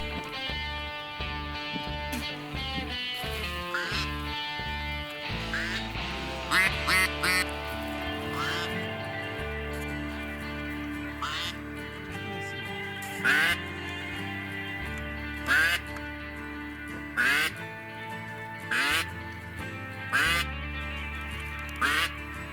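Ducks quack repeatedly while circling over a marsh during a duck hunt, with short calls recurring across the clip over a steady tonal background.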